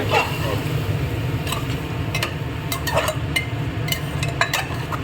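Vegetables for veg biryani stirred in a pot, with repeated light scraping and clinks from the spoon over a low background rumble.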